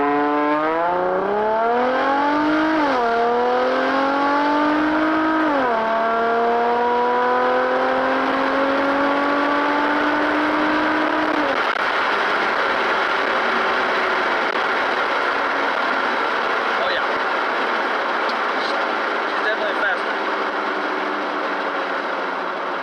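A modified nitrous-fed project car accelerates hard on a test drive, its engine revving up through several gear shifts in a rising, stepped whine, then settling into a loud, rough drone.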